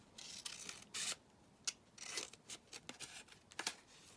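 Scissors snip and slice through vintage fly sheet paper, a series of short crisp cuts and rustles with brief pauses between, close and fairly quiet with no talking.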